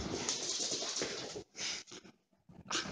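A big dog making whimpering, panting noises during a rough play fight with another dog at home, close and fairly loud in bursts separated by brief pauses.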